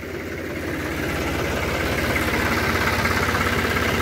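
A tractor engine idles steadily and close, a continuous low rumbling throb with a rough, slightly knocking rhythm that swells a little after the first second.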